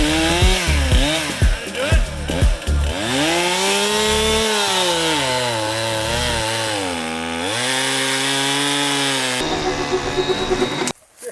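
A chainsaw with a camera rigged to it revs loudly up close, a few sharp bursts followed by a long sustained whine that rises and falls, then cuts off abruptly near the end.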